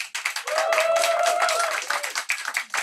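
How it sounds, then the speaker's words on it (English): An audience at a Pride poetry event claps and applauds for the round's poets, a dense wash of handclaps under a held musical or sung tone, steady throughout. "Please give another round of applause for our poets of this round."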